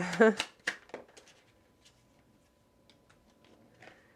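Tarot cards are shuffled in a short burst of quick riffling and snapping at the start, then a few soft card taps before near quiet, with faint speech-like sounds in the background.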